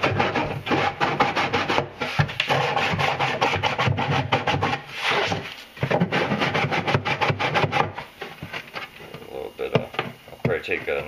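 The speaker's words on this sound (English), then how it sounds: "I'm just going to take a sander block here and just so it looks nice and neat." A sanding block rubs back and forth over the cut edge of a styrofoam cooler being made into an incubator, a loud close rasping scrub in rapid repeated strokes that pauses briefly before resuming.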